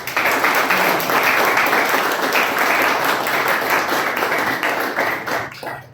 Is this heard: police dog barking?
no